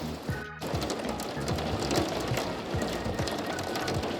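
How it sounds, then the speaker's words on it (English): Steady rain patters on a hard surface at an off-grid cabin build, a dense soft hiss with scattered drips, fairly quiet and continuous throughout. "It's definitely rain we need."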